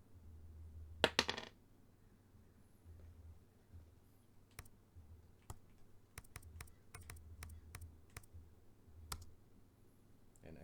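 Dice are rolled in a quiet room: a brief clattering rattle, then scattered light clicks and taps as they tumble and settle, faint against near silence.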